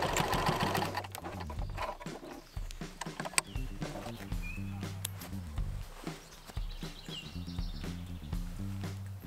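A sewing machine understitches a wrap skirt's facing to the seam allowance close to the edge, a steady close mechanical rhythm running throughout with small pauses and soft handling knocks.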